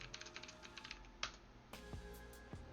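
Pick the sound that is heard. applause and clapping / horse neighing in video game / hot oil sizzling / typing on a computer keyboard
typing on a computer keyboard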